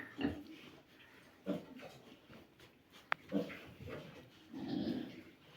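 Five-day-old multicoloured piglets from a three-breed hybrid sow sired by a Maxter boar give soft grunts and squeals in short scattered bursts, fairly quiet and close, with one sharp click partway through.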